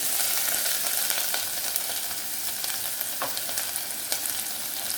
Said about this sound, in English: I've put in a piece of onion in the oil and it's sizzling, so the oil is ready